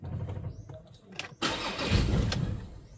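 Ford Everest 2.2 diesel engine with a crank-no-start fault: brief cranking attempts, then a loud burst as the engine catches and runs roughly for a moment, with people talking over it.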